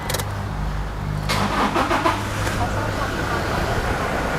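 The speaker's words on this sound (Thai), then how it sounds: "เดี๋ยวจะสตาร์ทเครื่องแล้วนะครับ" A 2016 Toyota Hilux Revo 2.4-litre diesel pickup engine cranks and catches easily, then settles into a steady low diesel rumble idling close by.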